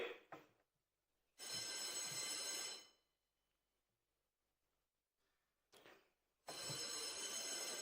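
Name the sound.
assembly quorum bell ringing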